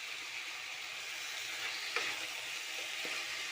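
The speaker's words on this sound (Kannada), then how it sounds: "ಸ್ವಲ್ಪ ಫ್ರೈ ಆಗಿದೆ." Ivy gourd with salt and grated coconut fries in a pan, giving a soft, steady sizzle with faint stirring clicks, quiet and without talk.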